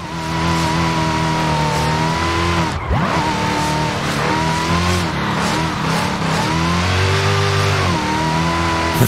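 Supercharged Dodge Charger in Forza Horizon 5, engine revving hard with rising supercharger whine, a brief tire squeal and skid near the third second, then sustained loud acceleration and shifting pitch to the end.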